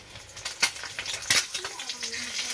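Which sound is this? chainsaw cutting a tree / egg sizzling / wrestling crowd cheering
egg sizzling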